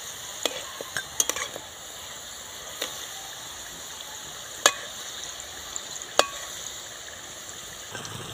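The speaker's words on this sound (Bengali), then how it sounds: "অল্প আঁচে ভেজে নিতে হবে, এপিট ওপিট করে খুব ভালো করে ভেজে নিতে হবে" Breakfast snacks fry in oil over low heat, giving a soft, steady sizzle with a few sharp clicks and taps of a utensil against the pan; nobody speaks.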